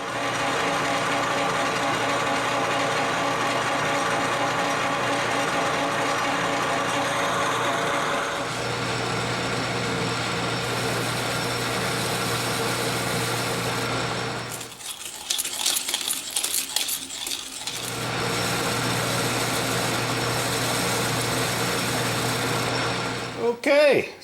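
Thread being cut into a metal bar for a surface grinder cross-slide leadscrew, a steady mechanical whir with a humming tone that stops briefly midway, light clicks and scraping in the gap, then resumes.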